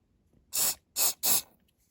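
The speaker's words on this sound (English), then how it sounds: "when you spray the activator on" Three short bursts of glue activator spray hiss from an aerosol can close by while fixing a door plate on a Corgi toy Jaguar XJ12C, two brief ones then a slightly longer one, with quiet between them.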